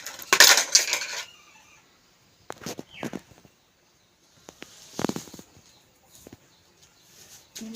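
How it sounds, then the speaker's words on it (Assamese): Sharp knife taps on a cutting board as brined jolphai olives are chopped into small pieces for pickle, a loud burst of rapid chops followed by scattered, fainter knocks with long quiet gaps. "সৰু সৰুকৈ কাটি ল'ম"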